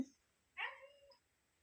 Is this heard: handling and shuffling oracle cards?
no